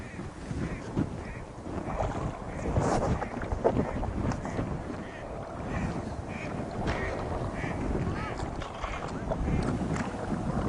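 An inflatable kayak with a side chine is paddled across open water, a steady wash of water and wind buffeting running the whole way with no clear individual strokes.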